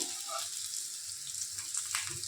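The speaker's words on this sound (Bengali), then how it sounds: "দেখুন আমাদের কাঁঠালটা আর আলুটা সুন্দর করে লাল লালভাবে ভাজা হয়ে গেছে" Jackfruit and potato pieces fry in a pan with a continuous close hiss and crackle of hot oil, faint stirring underneath, no voices.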